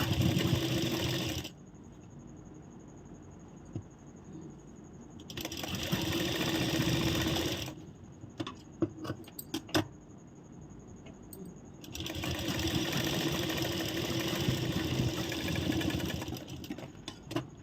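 An electric sewing machine stitching a blouse runs in three long, fast, whirring bursts. Quiet pauses between them carry small clicks and handling noises.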